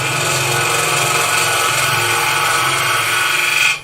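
A wood lathe tool cuts into a spinning wooden box, giving a continuous, close, harsh scraping hiss that holds steady and then stops abruptly at the end.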